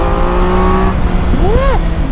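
A Triumph Tiger 1200 Alpine motorcycle accelerating, its engine note climbing loud and close, then a sweeping rise in pitch as the revs build through a gear change.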